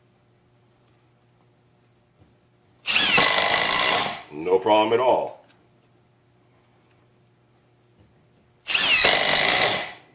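Two loud, close bursts from a Milwaukee M18 impact driver driving screws, each lasting about a second with rattling hammering, someone speaking briefly between them.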